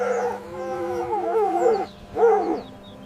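A fox gives two wavering, howl-like calls, the first long and sliding and the second shorter after a short pause, close and clear with no other sound around them.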